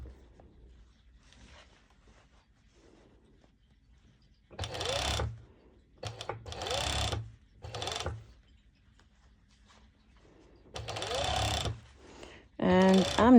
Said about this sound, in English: I'm always checking whether I'm stitching over all the layers of fabric